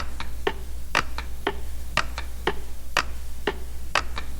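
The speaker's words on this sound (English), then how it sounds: "The only sound was the grandfather clock downstairs, tick-tock, tick-tock," A grandfather clock ticks indoors in a steady, even rhythm of about two ticks per second, crisp and moderately close over a low hum.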